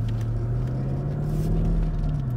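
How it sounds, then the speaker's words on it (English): A supercharged AMG engine in a 2006 Mercedes S55 with a sports package drones loud and close from inside the car, its low steady hum rising slightly in pitch as it accelerates. "It's a little loud because of the sports package, and it's an AMG supercharged motor"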